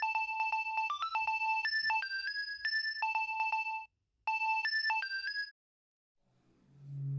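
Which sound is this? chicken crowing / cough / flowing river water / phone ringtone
phone ringtone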